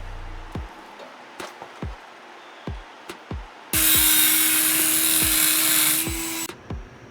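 Exhaust pipe on a Nissan 350Z being cut during a muffler delete: a series of sharp metallic clanks and taps, then a loud, steady high-pitched power-tool whine holding for about three seconds before stopping, followed by a few more knocks.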